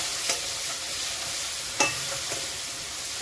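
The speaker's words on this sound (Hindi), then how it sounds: "तो अब ये जो हमने टमाटर का पेस्ट बनाया था ना और लहसुन" Tomato and garlic paste is stirred into spices sizzling in a pan, giving a steady soft fry hiss with a few brief spoon scrapes and clinks, close and moderately quiet.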